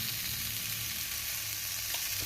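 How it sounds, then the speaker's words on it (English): Cheese and pepperoni sandwich frying in a pan, giving a steady close sizzle and crackle with no talk, a faint low hum running underneath throughout. "Just gonna let it sizzle for a little bit longer."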